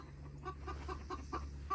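A hen on a homestead farm clucks after laying an egg, a series of short, evenly spaced clucks close by over a low steady background hum.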